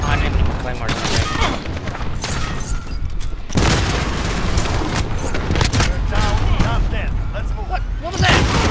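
Video game gunfire while shooting monsters, dense loud bursts of shots and booming blasts crowding together almost continuously, with a voice talking over the action.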